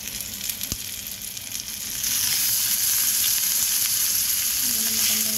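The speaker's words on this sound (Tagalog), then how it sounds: "Iprito ko siyang buo." Homemade embotido, a Filipino meat roll, dropped whole into hot oil and frying, a steady loud sizzle that swells after a brief softer start and continues evenly throughout.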